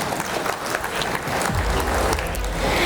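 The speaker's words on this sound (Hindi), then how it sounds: "जोरदार तालियां हो जाए।" Audience applauding after a call for loud clapping at a talk on marriage and social superstition, a steady dense wash of many hands, fairly close, with some low rumble joining midway.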